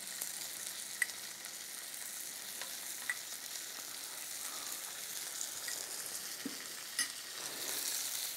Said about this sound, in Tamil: இந்த காளான் உள்ளே போட்டு நம்ம வதக்கும் போது காளான் நல்லா குக் ஆகணும்.